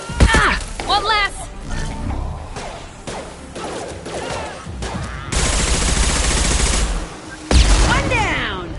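Mass Effect 2 combat with bursts of gunfire and impacts mixed with shouted voices, loud and close, with dense rapid firing in the middle stretch and near the end.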